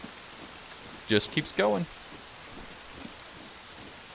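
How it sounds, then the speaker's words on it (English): Steady rain falls across an outdoor scene in the survival game SCUM, a soft continuous hiss throughout with a short burst of speech over it. "And now we've got some rain going on."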